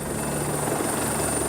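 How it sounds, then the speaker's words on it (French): A French-made Panther helicopter at the rear of a navy ship gives a loud, steady rotor and engine roar with a constant whine, heard up close and alone. "À l'arrière du navire, un hélicoptère Panther de fabrication française."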